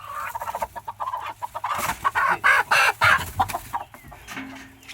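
Several hens cluck and squawk nearby in quick, uneven bursts, with soft rustling between calls.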